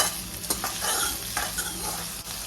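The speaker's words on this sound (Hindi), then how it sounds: "हमको वेजिटेबल्स एकदम फास्ट गैस पे फ्राई करना है" Capsicum with yellow and red bell peppers stir-fried fast over a high gas flame, with a loud, steady sizzle and repeated scraping stirs of a spatula in the pan.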